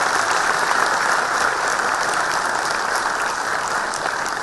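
An audience at a bank pensioners' meeting claps steadily, a dense even wash of applause holding at the same level the whole time.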